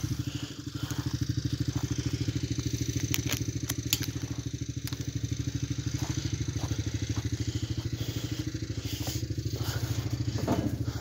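A Honda Big Red three-wheeler engine chugs loudly and steadily at idle, its fast regular thumping continuing unbroken, with faint clicks and rattles on top.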